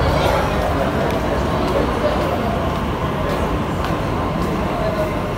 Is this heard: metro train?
yes